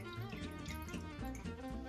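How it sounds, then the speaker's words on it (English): Excess water trickles and drips off a sheet of soaked etching paper in a quiet, steady patter, faint and close, with no talk. "I'll let the excess water drip off"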